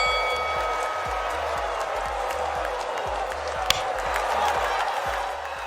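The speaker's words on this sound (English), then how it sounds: "I will have to turn the crowd audio down a little bit." Steady crowd applause and cheering in the Blockchain Brawlers video game, a continuous wash of clapping with a faint rhythmic low thump underneath.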